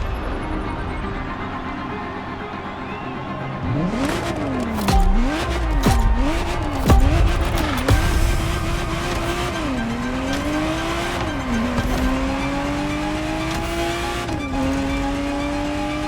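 A Ferrari Testarossa in The Crew Motorfest racing game accelerates hard, its engine revving up and dropping repeatedly through gear changes, with tyre squeal and skidding, loud and close without talk.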